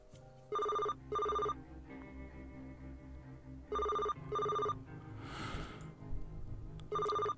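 A mobile phone in the video game Linda Brown rings in repeated pairs of bright electronic tones, loud and clear over a soft game music bed, with a brief swishing effect between rings.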